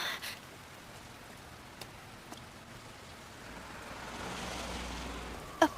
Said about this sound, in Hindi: मुझे इस बारिश से बचना ही होगा।